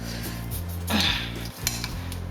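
Knife slicing the skin off a yam, a few close scraping strokes with a brief louder cut near the middle, over faint background hum.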